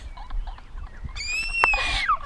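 Ducks at Chafford Gorges Nature Park give a few honking, nasal calls close by. They rise over a steady outdoor background hiss, with more calls bunching toward the end.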